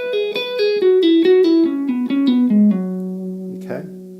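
An electric guitar plays a descending pentatonic trill lick with two notes dropped, rapid hammered and pulled notes stepping down in pitch before settling on a long held low note, close and clear with no talk.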